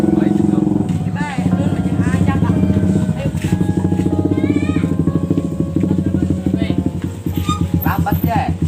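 A motorcycle engine runs steadily and close by in the Banjarsari, Lebak countryside, its low throbbing hum continuing under several people chatting throughout.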